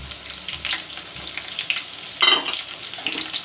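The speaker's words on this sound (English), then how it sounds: "I will let the garlic pods turn brown a little bit." Garlic pods fry in a pan with an uneven, close sizzle. Bursts of spitting and soft stirring rise and fall, and one sharper flare of hissing comes partway through, with no talking.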